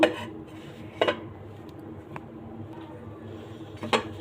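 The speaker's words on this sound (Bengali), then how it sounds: "এই খোলাতে আবার আর একটা পিঠা দিয়ে দেবো এবার ঢাকা দিয়ে দেবো" A lid set down over a pan on the stove while making dudh chitoi pitha, with a few sharp clanks of metal and earthenware near the start, middle and end of an otherwise quiet stretch.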